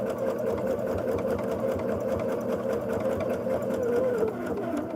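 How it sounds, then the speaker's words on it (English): A sewing machine runs steadily, stitching log cabin quilt blocks together with a fast, even mechanical whir and patter that holds close and constant throughout. "And we'll get a few blocks sewn together."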